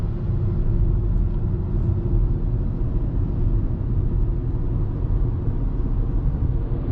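A 2020 Proton X50 with a three-cylinder engine cruises on a highway, its cabin filled with a steady low road and engine rumble, even and constant without talk.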